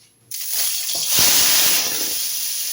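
Hot oil sizzling in a pan on a gas stove while Maggi noodles are being cooked: a sudden loud, steady hiss starts after a brief quiet moment, swells, then continues as a bright crackling sizzle, close up.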